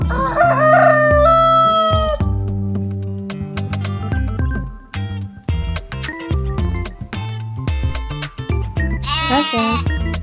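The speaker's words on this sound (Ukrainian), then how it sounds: "Петух." A cartoon-style rooster crows loudly at the start over a bouncy children's music track, and another bright animal call rises near the end against the steady tune.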